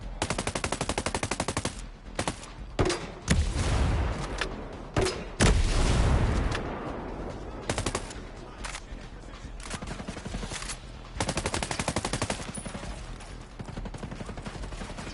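Rapid bursts of automatic gunfire and heavy booms in the video game Ghost Recon Breakpoint, loud and near, with short gaps between volleys and no talk.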